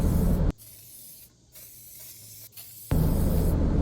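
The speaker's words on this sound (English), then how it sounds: "I just used some black spray paint for this" Two bursts of black aerosol spray paint hiss, loud and close, with a quieter stretch between them.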